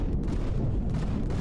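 Heavy, booming gunfire from Empyrion Galactic Survival in an asteroid field rumbles continuously for a brief moment, deep and dense, with no voices over it.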